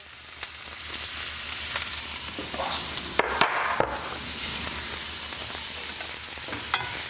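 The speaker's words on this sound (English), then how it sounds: "There's that sizzle we wanna hear." Chopped red bell pepper and garlic sauté in extra virgin olive oil, giving a steady, close hiss of frying with occasional clinks and stirring scrapes, and no talking.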